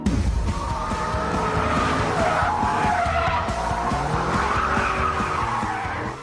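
A Vauxhall VXR8, also sold as the Holden VXR8, accelerating hard with loud sustained tire squeal and a roaring engine, close and continuous for about six seconds with no talk.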